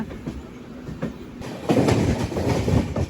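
Passenger train from SMVT Bengaluru running through near Tirupati, its wagons rumbling with a clickety-clack that grows louder and denser partway through as the coaches roll past close by.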